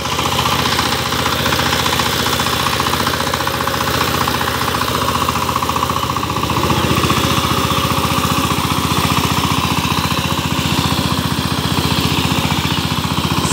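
A Sifang 25hp diesel power tiller with 28 blades churns through muddy farmland, its engine chugging in a steady, loud, continuous drone that holds throughout with no voices.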